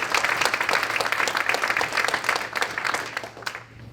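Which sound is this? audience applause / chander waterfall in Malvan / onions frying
audience applause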